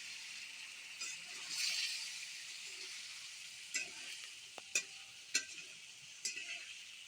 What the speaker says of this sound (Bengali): এই তো এগুলাকে সব কিছু নেড়ে চেড়ে মিশিয়ে নেব।